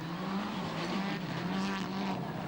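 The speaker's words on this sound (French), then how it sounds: "C'est parti pour Ologic sur la Mitsubishi jaune et noire." Yellow and black Mitsubishi rally car at a dusty rally stage, its engine droning steadily and loudly throughout with a rising, straining tone and a faint hint of tire scrub.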